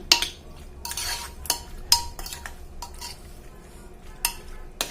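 Squid being stirred in a pan with salt, turmeric and chili powder, giving repeated scraping and clinking of a spoon against the pan at an irregular rhythm, close and clear, with a low background hum and no talk.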